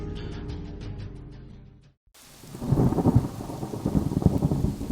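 A rain effect in a Bengali horror audio story: a musical passage fades to a brief silence, then steady rainfall follows, with low rumbling thunder underneath.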